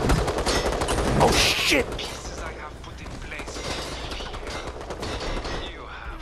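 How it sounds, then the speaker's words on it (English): Machine gun fire in Resident Evil Resistance, a loud fast burst that dominates the first couple of seconds, then continues as quieter chattering fire under game noise while a player shouts. "I didn't even know you had a machine gun."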